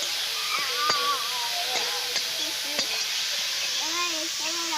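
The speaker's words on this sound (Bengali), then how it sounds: "আমি এবার এতে আদা রসুনটা দিয়ে দেবো।" Ginger and garlic fry in a pan for Bengali potol chingri, a steady hiss of sizzling with a few scraping stirs and clinks, close and continuous, with a voice faintly underneath.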